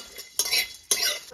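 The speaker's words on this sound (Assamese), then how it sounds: "খালি কেৰাহীটোতে বনাম মই জিৰা জালুক আৰু শুকান জলকীয়া আৰু গৰম মছলা এইখিনি মই ইয়াতে এতিয়া ভাজি লম" A spatula scrapes and stirs cumin, dried chillies and garam masala being dry-roasted in an empty wok with no oil, giving two distinct rasping strokes of metal on metal with brief pauses between.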